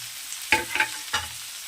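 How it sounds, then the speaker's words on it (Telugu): Chopped onions and tomatoes hit a hot pan with turmeric for masoor dal, giving a steady sizzle broken by three sharp bursts of stirring and frying, close and fairly loud. "కలిపి మనం ఇందులో ఆనియను, టమాటాస్ వేసేయాలండి"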